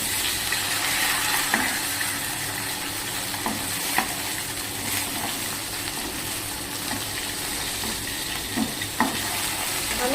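Fish curry sautéing in a pan gives a dense, steady sizzle and bubbling hiss at close range, with occasional soft spatula knocks scattered through the continuous frying.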